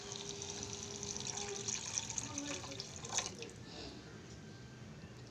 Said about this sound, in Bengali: দেব একটু জল